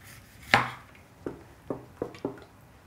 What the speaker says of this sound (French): il suffit de nettoyer votre fenouil et de l'émincer légèrement